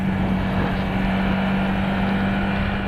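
Yamaha MT-125 motorcycle engine accelerating, a loud steady drone with a strong low hum, heard close and continuous throughout with no speech.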